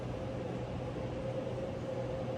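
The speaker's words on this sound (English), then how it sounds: "my air conditioning is on full high and my dishwasher's running" Steady broadband hum of a home air conditioner running on full high with a dishwasher going, a constant whooshing drone with a low tonal hum, continuous and even throughout, no voices.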